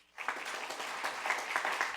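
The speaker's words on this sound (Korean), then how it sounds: "우리 교수님들 직원들, 오늘 우리 이사로 감사로 생겼었던 우리 목사님 장로님, 그리고 학교를 위해서 수고하신 우리 교수님들한테 우리 격려의 박수 한번 합시다" An audience at a Korean university's founding anniversary chapel service applauds professors, staff, pastors and elders, starting after a brief quiet moment and holding as a steady, moderately loud patter of many hands.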